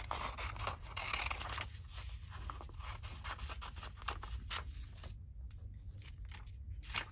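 Scissors cut out painted and stamped paper labels with a string of close, crisp snips and paper rustles, steady and quiet, with no talking.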